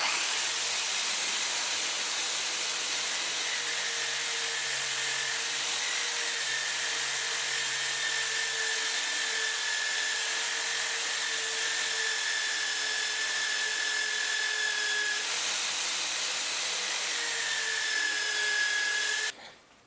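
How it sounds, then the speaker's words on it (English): A drill spinning a wire wheel scours rust off a Toyota 4AGE spark plug valley cover, a steady abrasive hiss and whine running continuously for about twenty seconds before cutting off at the end. "I'm going to use the wire wheel attachment and the drill to get rid of the rust"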